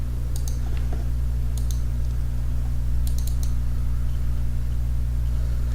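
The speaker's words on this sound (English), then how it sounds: "So let's click on the plot button." Mouse clicks on a software plot button: a few sharp, close clicks in small clusters, some doubled, over a steady electrical hum, with no talking.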